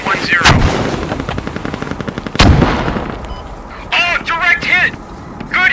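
Loud rapid gunfire and a heavy 81mm mortar impact in the PC video game Squad, sustained automatic bursts near and far, then a sharp blast midway, with players talking over the battle.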